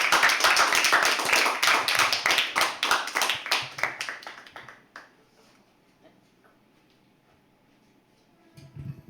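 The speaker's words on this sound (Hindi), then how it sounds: "एक बार जोरदार ताली से स्वागत कीजिए सुरभि शाह का।" Audience at a live poetry open mic clapping to welcome a performer, a dense burst of hand claps that steadily thins and fades out over about five seconds into near silence, followed by a faint sound at the very end.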